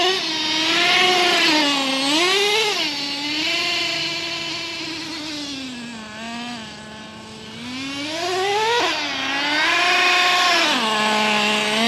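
Traxxas T-Maxx nitro RC truck engine running after ten months of sitting, a loud high-pitched buzzing whine that rises and falls repeatedly as the throttle revs up and eases off, close by throughout.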